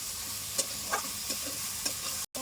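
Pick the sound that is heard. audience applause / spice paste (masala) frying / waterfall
spice paste (masala) frying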